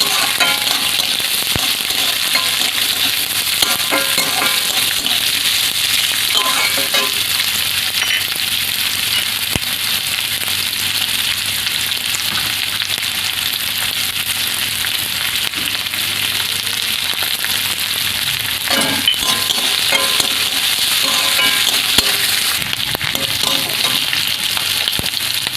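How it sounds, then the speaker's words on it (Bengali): Carrot, capsicum and green chilli stir-frying in a pan, a continuous loud sizzle with occasional scraping stirs and no talk. "এবার দেবো ক্যাপসিকাম আর কাঁচা লঙ্কাটা, ভালো করে একটু নেড়ে করে নেবো।"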